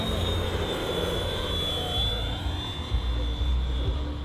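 An electric Hirscher 400 Turbo RC airplane flying overhead: a steady high-pitched whine from its electric drive over a constant rushing drone, moderately distant and continuous with no talk.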